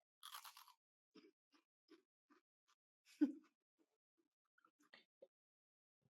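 Freeze-dried peach rings being bitten and chewed up close, a sharp crisp crunch followed by a string of quieter intermittent crunches over quiet pauses.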